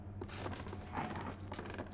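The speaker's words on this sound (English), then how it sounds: "I love the creaking sound of wood." Wooden creaking inside the game Little Nightmares, a low groaning texture under a steady hum with faint mechanical clicks, continuous for about two seconds.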